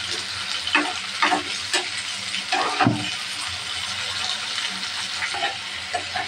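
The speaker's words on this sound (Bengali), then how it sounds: "মশলাটা ভালোভাবে কষিয়ে নেব।" Spice paste with ginger, garlic and chopped tomato is sautéed in a pan for dried Bombay duck bhuna, a close steady sizzle punctuated by repeated stirring scrapes and taps.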